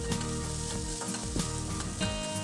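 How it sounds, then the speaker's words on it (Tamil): Oil sizzles steadily and loudly as onions fry in a pan, with a few stirring scrapes over the constant crackle. "வெங்காயத்தை கண்ணாடி பதம் வர வரைக்கும் நம்ம எண்ணெயில் நல்லா வதக்கி எடுத்துக்கணும்."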